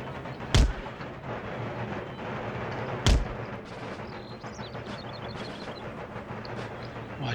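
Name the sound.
artillery fire from the video game Empire Total War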